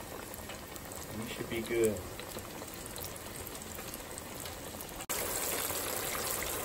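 Coated rock bass deep-fries in hot oil with a steady bubbling sizzle. A voice speaks briefly near the start, and the frying sounds louder and closer after a short cut.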